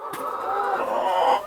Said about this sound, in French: Ah ce coq alors. Il râle autant que les poulettes.